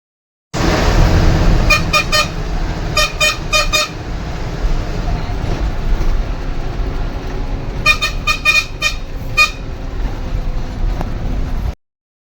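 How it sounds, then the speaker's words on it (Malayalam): A bus horn honks in two clusters of rapid, repeated toots over the steady rumble of the moving vehicle on a road ride, loud and close. "ബസ്സിൻ്റെ ആ ഒരു ഓണടിയൊക്കെ കേട്ട് പോകാൻ ഒരു പ്രത്യേക രസമാണ്"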